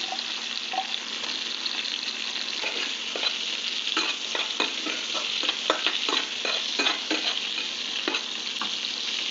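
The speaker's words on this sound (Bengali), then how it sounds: "একটু শিম আর গাজর হালকা করে সতে করে তেলেতে ভেজে নিচ্ছি।" Beans and carrots sautéing in hot oil for a rohu fish curry, a continuous close sizzle broken by repeated scraping stirs of a spatula in the pan, no voices.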